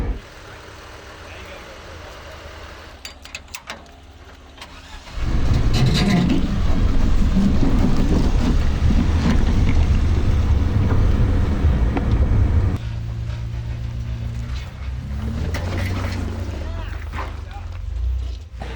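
An off-road rig's engine rumbles as it crawls up a rock ledge on an extreme New Mexico trail, a low, loud drone that swells midway and then settles, with occasional voices and scraping around it.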